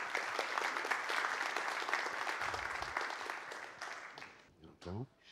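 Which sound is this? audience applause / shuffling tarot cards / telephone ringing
audience applause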